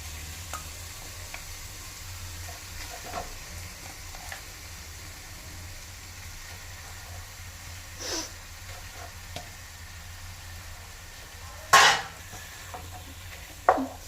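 Chicken is stirred and fried in a biryani gravy in a pot, with a low steady sizzle under sporadic scraping stirs and a few sharp utensil clanks toward the end.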